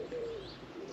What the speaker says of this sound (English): just hear the birds singing.